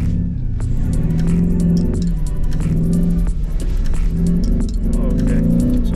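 Lamborghini engine revving and droning loudly while driving on slippery snow in Corsa mode, a steady low rumble with rising and falling revs, light clinks, and people talking over it.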